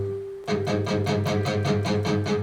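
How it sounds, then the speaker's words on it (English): Palm-muted notes picked on a single electric guitar string in a steady rhythm, about eight short, damped plucks with a chunky low thump, quite close and clear, no voices. "when you're actually muting, it sounds like this."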